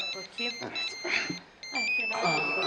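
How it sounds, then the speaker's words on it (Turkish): A mobile phone rings indoors in a Turkish drama scene, its bright electronic ringtone tones repeating through the clip while people talk over it. "çocuklar ya şu telefona baksanıza"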